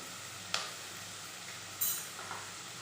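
Garlic paste hitting hot oil in a pan while chicken curry is being cooked: a steady, fairly soft sizzle with a few brief clinks and stirring bursts, no talking.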